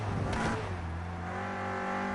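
Renault Clio Cup race car at Snetterton on its final qualifying lap, a loud close engine roar that rises sharply in pitch at first, then settles into a steady high-revving drone as it passes.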